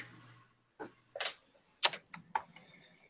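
Computer keyboard keys tapped in short irregular bursts, a few separate clicks and clusters of quick keystrokes, close and fairly quiet, with a faint low hum at the start.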